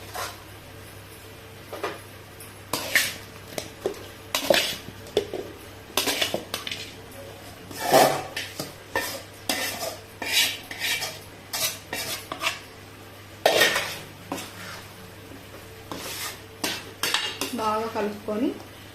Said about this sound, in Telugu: ఇలా మసాలా బాగా వేగిన తర్వాత చికెన్ ముక్కలు వేస్తున్నాం.